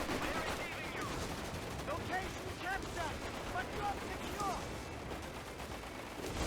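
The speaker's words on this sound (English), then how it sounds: "some kind of artillery over here" Artillery fire in a strategy video game with an air support center sounds as a dense, steady barrage of distant rumbling blasts and crackling shots, with faint talking mixed in.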